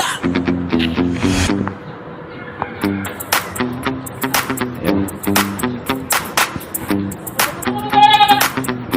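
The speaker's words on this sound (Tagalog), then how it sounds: "Ito yung kambing na walang sungay." A hornless goat on a small farm bleats repeatedly in short, wavering calls, close and fairly loud, with a rhythmic series of bleats spread across the clip and a brief higher squeal near the end.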